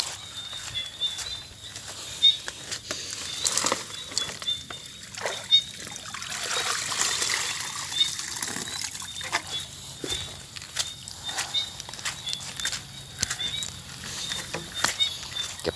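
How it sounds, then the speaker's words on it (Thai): Morning rain pattering and trickling outdoors during an eel-trap collection trip, a continuous soft patter with scattered drips and splashes and occasional movement nearby. "ฝนมันตกนะ"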